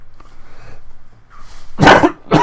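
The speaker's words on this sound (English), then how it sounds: "It's only a smoker's cough." A smoker's cough from a man indoors gives two short, harsh, close bursts after a quiet stretch, with the second cut off at the end.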